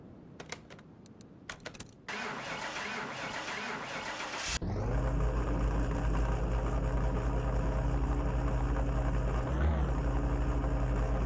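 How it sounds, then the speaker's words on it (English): A salvage car's engine cranks and catches after some clicking and rattling, then runs at a loud, steady idle close by with a brief surge near the end; the car has a failing starter motor. "Now we're going to pull it outside and give it another start up"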